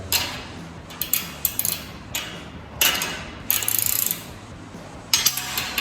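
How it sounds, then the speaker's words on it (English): A ratcheting box wrench tightens a clamp on an overhead studio lighting grid, producing several close, loud bursts of rapid mechanical clicking separated by short pauses, with no one talking. "This is where your ratcheting box wrench is going to come in real handy"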